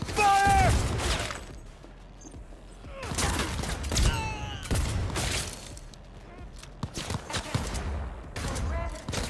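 Bursts of gunfire in the Cyberpunk 2077 video game, several loud volleys of shots fired in quick succession across a chaotic combat scene, with game voices shouting over the shooting.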